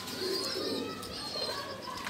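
A pair of Teddy pigeons cooing close by, soft low murmuring coos repeating over steady background noise, with faint bird movement.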